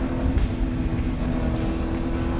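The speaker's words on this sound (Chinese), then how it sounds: "它这个排气管，它只要一退档，排气管非常大声" Small car's engine and exhaust droning steadily while climbing a mountain road around 2000 rpm, a loud continuous low rumble heard from inside with no break.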